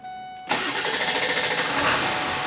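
A Ford F350 dually pickup truck engine cranks and fires at about half a second, then settles into a steady, loud idle with a slight rhythmic pulse, heard close up without voices.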